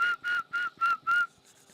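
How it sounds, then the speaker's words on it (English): A person whistles a short tune of five clear, evenly spaced notes at one pitch, then the last note trails off softly. "You're a captive audience listening to me whistling."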